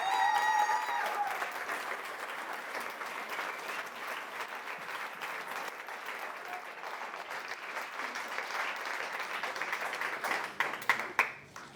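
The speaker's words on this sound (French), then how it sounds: "On peut les applaudir très fort aussi." An audience applauds at a Marseille talk event on women reclaiming the street, with sustained clapping from a crowd that holds steady for about ten seconds before thinning into a few last scattered claps.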